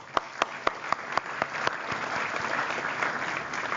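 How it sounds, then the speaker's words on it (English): An audience at a student-run Model UN event breaks into applause: a few sharp, separate claps at the start quickly swell into a steady, dense wash of clapping from a crowd. "So let's give a round of applause."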